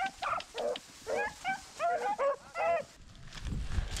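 Rabbit hunting dogs give a run of short yips, whimpers and barks in quick bursts, close and fairly loud, before the sound fades into rustling and wind-like noise.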